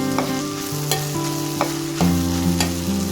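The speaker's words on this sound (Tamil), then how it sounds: "மசாலா ஆட் பண்ணிவிட்டு நல்லா மிக்ஸ் பண்ணி விட்டுருங்க." Potato rice with garam masala being stirred in a frying pan, a spoon scraping and knocking in repeated strokes over a steady close sizzle, with no talking.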